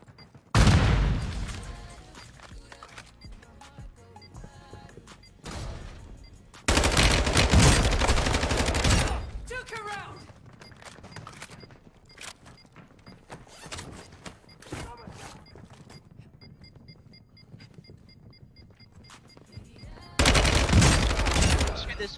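Shotgun blasts in a video game, heavy booming gunfire in long loud bursts separated by quieter stretches with scattered smaller shots and game effects, close and dominant throughout.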